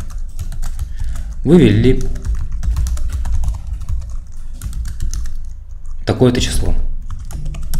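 Computer keyboard typing Python code, a fast run of soft clicks continuing under someone talking throughout.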